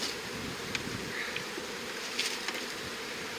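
A dense, steady hum of many honey bees buzzing close by at an open hive fills the whole stretch, with a few faint clicks and knocks underneath.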